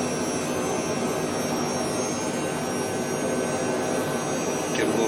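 Jet engines of a Lockheed JetStar in Microsoft Flight Simulator being throttled up, a loud steady roar and whine holding constant throughout, swelling slightly at the very end with no voices over it.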